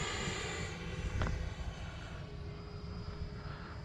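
An X-Fly Alpha RC model airplane takes off from a runway on a windless day, its engine making a steady, loud, broadband drone that holds throughout, with a brief sharp transient partway through.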